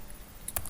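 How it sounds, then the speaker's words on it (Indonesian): A command being typed on a computer keyboard in a Linux terminal, a few faint close key taps with one sharper click near the end. "lalu ketikkan"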